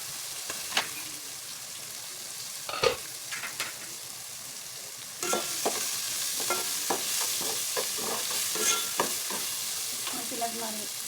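Tomatoes sautéing in a pan, a steady close sizzle with scraping and clacking stirs repeating through it, the frying getting a little louder partway through.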